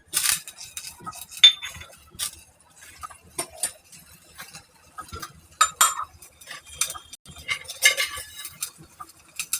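Sugar water stirred in a pot for Gujarati mari khaman, a spoon clinking and scraping against the metal in irregular light taps close by, no talking.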